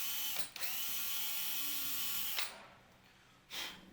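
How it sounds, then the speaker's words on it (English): A drill bores out tuning peg holes on a handmade gourd banjo, a steady high whir that stops abruptly and then gives one brief burst. "I'm just drilling out the tuning pegs"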